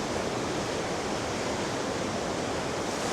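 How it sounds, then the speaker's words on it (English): The river in Lucerne rushes past a dam with a steady, broad roar of flowing water, even and continuous, heard at moderate distance and with no voices over it. "You can see they've narrowed the water here as well with another dam."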